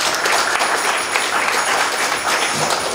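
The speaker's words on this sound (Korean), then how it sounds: "다시 한번 감사의 박수 부탁드리겠습니다." An audience at an art gallery artist talk applauds in a continuous, fairly loud patter of many hands, steady from start to finish without speech.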